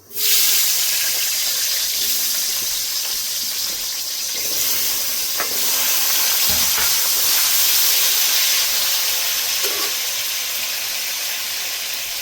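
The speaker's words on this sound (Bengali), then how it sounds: "আলুগুলো দিয়ে দিচ্ছি, আলু ভেজে নেব।" Potatoes fry in a pan in a village-style Bengali kitchen, a loud, steady hiss and sizzle that starts abruptly and continues throughout with a few faint clinks. No one speaks.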